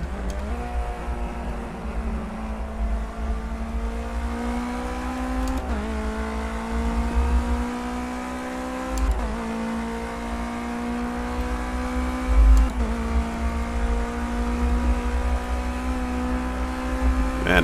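A track car on a circuit, recorded from inside, with a loud engine drone that climbs in pitch and drops back at each of several gear shifts, and occasional rattling thumps as it shakes.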